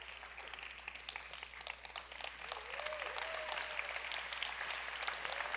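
An audience at a conference session on private finance for climate adaptation gives a sustained round of applause, faint and distant at first and then swelling fuller, with a few voices calling out.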